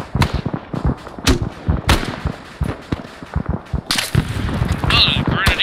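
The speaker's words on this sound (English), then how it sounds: "the Grenadier actually uses grenade launcher" Grenade launcher fire from a Grenadier soldier in a Hill 881 defense battle game: repeated sharp booms and blasts scattered over the stretch, some close and loud, mixed with other battlefield gunfire and explosions.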